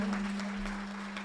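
An audience at a Tamil festival debate event in 2024 gives a short burst of steady, moderate clapping for a poet. A low electrical hum sits underneath.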